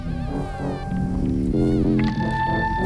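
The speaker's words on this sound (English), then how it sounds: "It sounds like a cat." A cat-like meowing tone wavers and bends within a dense music track, sliding up and down over a steady beat.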